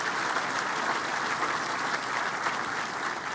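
Audience at a university on-campus stadium groundbreaking applauding a conference commissioner, steady dense clapping from a crowd throughout, even in loudness and without speech.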